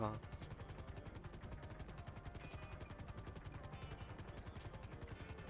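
Rapid rhythmic thudding of helicopter rotor blades in a video game, steady and close, with a faint voice underneath.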